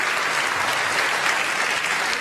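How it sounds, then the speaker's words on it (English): A snooker crowd at the 2023 UK Championship final applauds steadily and loudly, a dense continuous patter of clapping filling the hall. "Applause from the crowd"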